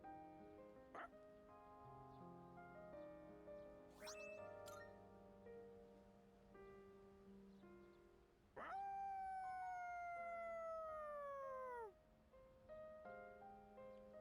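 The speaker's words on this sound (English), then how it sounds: "Koromaru's howl resounds throughout the quiet shrine." A dog howls in the Persona 3 Reload video game inside a quiet shrine: one long, loud, sustained howl that bends downward, following quieter game music and chimes.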